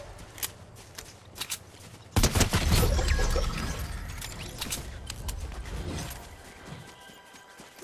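Gunfire in the Fortnite video game: a loud burst of rapid shots starts partway through and keeps going with scattered clicks and mechanical rattles, after quieter, sparser sounds earlier on.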